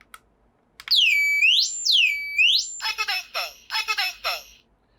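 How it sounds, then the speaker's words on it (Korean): Standalone fire detector alarm: loud, shrill electronic tone sweeping up and down in repeated wails, then shifting to rapid pulsing beeps in several bursts, close and clear. "이 물품은 단독 경보용 감지기로 실내에 화재가 발생했을 때 화재를 감지해주는 역할을 하며"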